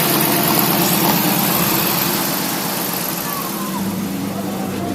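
A Dodge Charger R/T engine idles steadily at about 1000 RPM, a loud, close, even rumble with a constant mechanical hum throughout.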